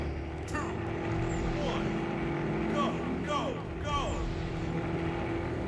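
Motorboats racing in a video game boat race, a steady droning engine roar with whooshing passes running throughout, with people talking over it.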